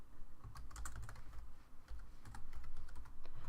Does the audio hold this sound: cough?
no